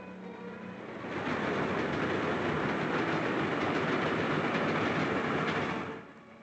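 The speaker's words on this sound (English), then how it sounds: "Look at that train." A train rolls past on rails, swelling from a steady rumble to a loud, sustained clatter of wheels that holds for several seconds before easing off, with no voices.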